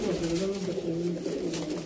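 Sialkoti pigeons coo close by in a continuous low, throaty warble, with someone talking over them.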